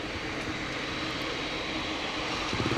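A large airliner's jet engines roar at Cat Bi airport in Hai Phong on a thick foggy morning. The sound is a steady, broad, moderately loud engine rush heard from some distance.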